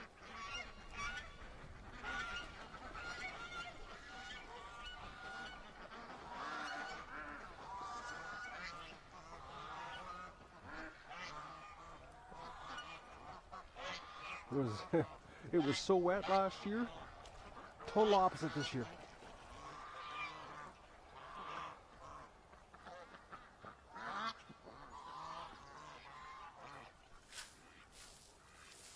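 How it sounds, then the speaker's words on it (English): Canada geese honk in a loud burst of repeated calls midway through, heard amid ongoing outdoor talk from people discussing dry, dead grass. "Look how big those Canada geese are"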